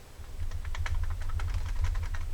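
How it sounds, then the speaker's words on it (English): A low rumbling drone with rapid, uneven clicking and ticking from a worn, loose serpentine belt pulley bearing on a 2018 Jeep Grand Cherokee 3.6L, spun by hand, steady and close, no voices. "there's a little bit of play in that bearing. If I spin it, that's pretty loud."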